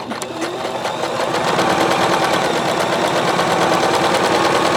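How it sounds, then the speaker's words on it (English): A Bernette b33 sewing machine stitches over a cord joining two pieces of fabric, a fast, continuous rattling whir that speeds up and then holds steady, loud and close with nothing else heard. "we're sewing over top of the cord"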